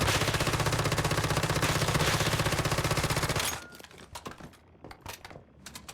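Sustained rapid-fire gunfire aimed at a training dummy in the survival shooter Once Human, a fast steady stream of shots that stops abruptly, followed by a few scattered clinks and taps at lower volume.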